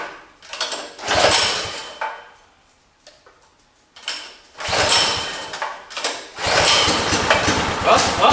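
A rusty small engine with choke on sputters into life in bursts, revving and dying between pulls before settling into a rough, loud running clatter.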